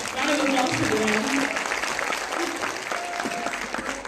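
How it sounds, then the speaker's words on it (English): Audience applause at a Bharatanatyam arangetram celebration fills the room as a dense, steady wash of clapping that slowly thins out, with voices and cheering mixed in. "Can we have like a round of applause for the man?"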